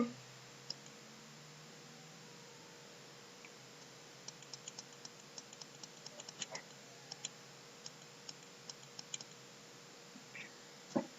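A computer mouse clicks sparsely at first, then repeatedly in a steadier run of faint, sharp ticks over a quiet background hum.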